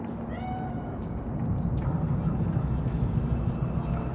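Cat meowing in the Cyberpunk 2077 video game, a faint drawn-out mew over a steady droning background hum, with no talk.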